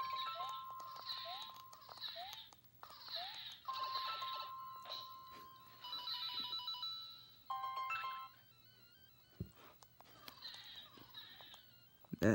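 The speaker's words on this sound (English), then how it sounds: "That's actually an alarm." An alarm rings in repeated electronic bursts with a wavering tone, starting and stopping several times at moderate loudness, with faint background hum.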